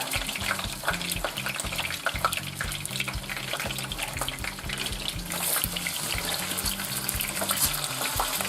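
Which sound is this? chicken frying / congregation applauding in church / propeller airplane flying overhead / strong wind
chicken frying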